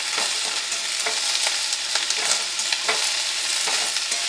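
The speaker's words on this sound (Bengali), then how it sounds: "এবার শাক দিয়ে আমি এটাকে ভালো করে নাড়বো" Greens are stirred with prawns as they fry in oil in a pan, giving a steady close sizzle with regular scraping stir strokes about every half second throughout.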